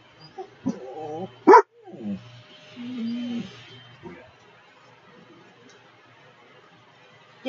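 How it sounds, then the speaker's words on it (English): Two little dogs bark, yip and whimper close by in short irregular bursts, with one sharp loud yelp and softer whining between, in a quiet setting. "She goes out there with the 2 little dogs."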